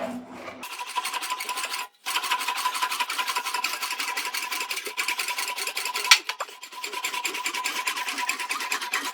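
A metal body panel for a hand-built roadster's rear quarter is rolled on an English wheel with a steady, continuous raspy hum, two brief gaps, and a sharp ringing tone emerging near the end.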